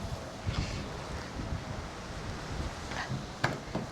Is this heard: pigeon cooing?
no